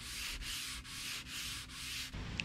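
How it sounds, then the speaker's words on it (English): Hand sanding of a vintage Danish wooden dresser being restored: five rhythmic back-and-forth rasping strokes, close and steady, with no voices. "when I sand it, more of that color is coming out."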